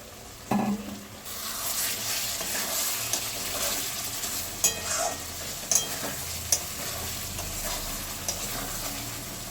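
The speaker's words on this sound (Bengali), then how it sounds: "উচ্ছে আর বেগুন ভেজে রেখেছিলাম দিয়ে দিচ্ছি ভালো করে নেড়ে নেব" Fried bitter gourd and eggplant are stirred in a pan with a soft steady sizzle, punctuated by several sharp clicks and scrapes of the spatula against the metal.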